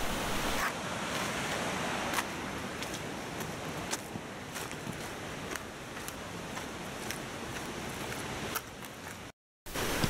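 Gentle flow of a clear, shallow brook near Nunobiki Falls in Japan, a steady close wash of water with light splashing ticks, continuous and even throughout, with a brief dropout near the end.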